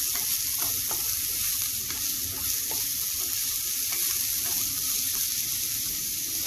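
Broccoli and moong beans being stirred in a pan, with a steady soft sizzle and a few faint scraping clicks of the spoon, continuous and close, with no talking.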